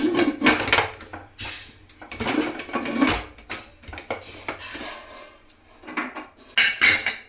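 A pressure cooker lid being fitted onto a pot of mutton, with repeated close metallic clanks, scrapes and clattering knocks in uneven bursts.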